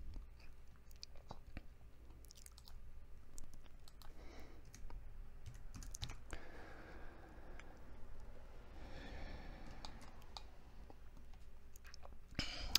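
Numbers typed on a computer keyboard while working in Autodesk Inventor, quiet close clicky keystrokes in irregular bursts with brief pauses against a faint room hum.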